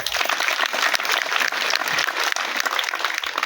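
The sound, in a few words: mighty hand clap for Mr. Amimbi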